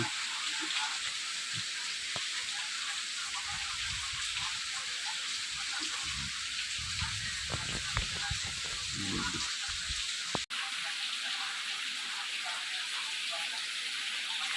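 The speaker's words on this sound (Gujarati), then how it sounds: "અત્યારે વરસાદ ચાલુ થઈ ગયો છે" Rain falls steadily in a constant hiss, with a low rumbling patch in the middle and a sharp click near the end.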